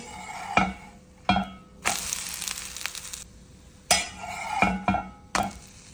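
Coconut oil in a pan for whole moong dosa sizzles in a sustained burst between sharp scraping and clanking strokes of a utensil against the pan, close and fairly loud, without speech.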